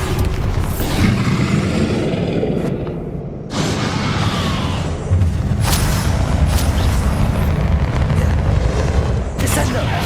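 Bombarda explosion spell in Hogwarts Legacy on PS5 during heavy spell combat: repeated deep booms and crackling bursts, a brief lull after a few seconds, then fresh sharp blasts and whooshes, loud and close throughout.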